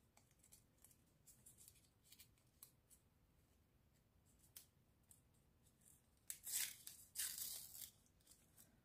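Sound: paper sticker packet being opened

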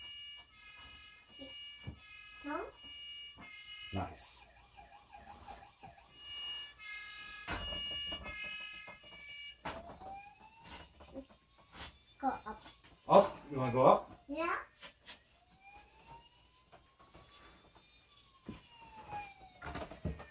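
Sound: toy fire truck siren, Bruder fire engine

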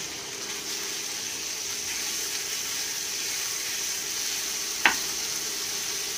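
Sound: hamburger frying in melted butter

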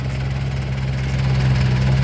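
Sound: Yanmar EF514T tractor engine running

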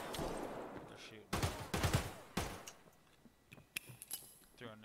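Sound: gunfire in the video game Escape from Tarkov

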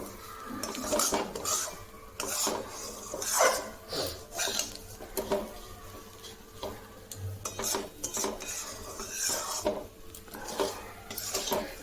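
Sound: semolina being roasted and stirred in a pan

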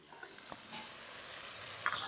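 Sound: spices (masala) frying in a pan

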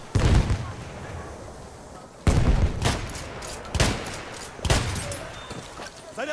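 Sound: grenade and gunfire in video game Frontline

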